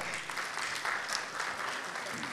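An audience applauds a speaker at a Social Media Week event in São Paulo, dense continuous clapping at moderate level, with a faint voice underneath.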